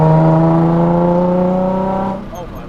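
A rare Nissan 350Z NISMO 380RS sports car engine idles loud and rough with a steady exhaust drone, then eases off near the end.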